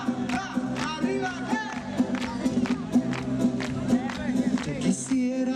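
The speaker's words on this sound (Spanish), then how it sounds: "Lo vamos a vestir con unas palmas." Audience clapping in rhythm along with a live orchestra playing dance music at an outdoor show in Dodro, A Coruña, Galicia. Steady claps ride under loud band music and sung vocals, with some crowd noise.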